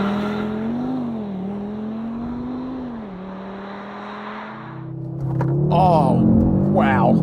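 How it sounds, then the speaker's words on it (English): 2023 Audi RS3 five-cylinder engine in a launch-control 0 to 100 run, a steady idle hum building into loud, rising acceleration with gear-change sweeps, while someone talks and exclaims over it. "and then it will give us our 0 to 100 with launch control"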